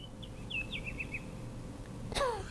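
A bird-song alarm tone from the BARDI smart home app plays as a short run of high chirps and trills, faint and thin, followed by a brighter descending call near the end.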